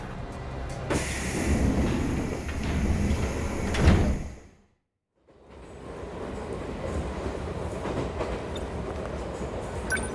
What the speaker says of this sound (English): Looks like my train's here